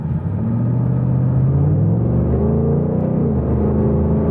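A 2022 Ford Mustang Mach 1 V8 fires up and settles into a loud, deep rumbling idle with slight revving swells, close and steady with no speech.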